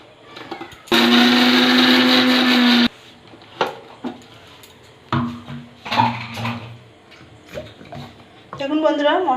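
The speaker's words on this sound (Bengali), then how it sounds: "এবার মিক্সিতে দিয়ে গুঁড়ো করে নেব" A kitchen mixer grinder whirs loudly for about two seconds as it grinds cooled, roasted spices for a village-style mango pickle, followed by clattering of the jar and utensils.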